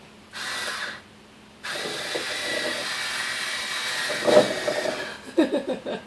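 An Ozeri electric wine opener whirs in two bursts, a short buzz and then a longer steady motor hum as it spins into a cork, ending with a few clicks and handling knocks.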